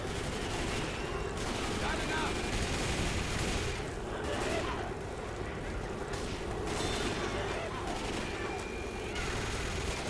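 Rapid gunfire from the co-op zombie shooter Left 4 Dead 2 crackles in a dense, continuous barrage, with voices talking over the shooting throughout.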